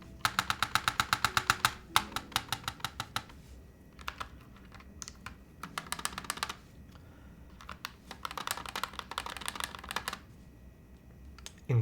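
Fast bursts of typing on a Holy60 custom mechanical keyboard fitted with PCB foam, crisp close clacks in quick rhythmic runs separated by short pauses, alone with no talking.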